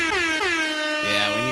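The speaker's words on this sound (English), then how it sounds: "We need some air horns that does that." An air horn blasts loudly in two strong honks, the second sustained, with a few faint voices around it.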